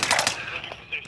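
Gunfire in a Call of Duty: Modern Warfare match, rapid bursts of automatic shots crackling close and loud over a little over a second, with game ambience underneath.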